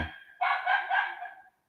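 A single dog bark, a short tonal yelp trailing into a brief whine, fairly close with nothing else around it.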